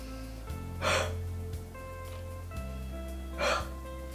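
Two forceful open-mouth exhalations, performed as a huffing breathing exercise after abdominal and lung surgery, come about two and a half seconds apart as breathy bursts over a low steady background hum.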